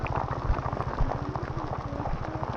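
Heavy rain pours steadily, a soft, constant hiss of drops on surfaces with a faint low rumble beneath, fairly quiet and uninterrupted, with no voices.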